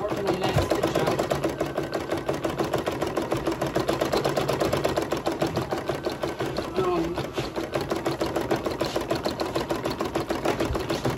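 An embroidery machine stitching out a snap-tab design in the hoop, a fast, steady mechanical chatter of needle strokes running continuously and close by.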